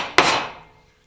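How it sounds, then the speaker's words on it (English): Single sharp strike of a chisel hacking across timber end grain during timber framing, a loud crack followed by a brief ringing decay, close and alone. "As you're hacking across this end grain"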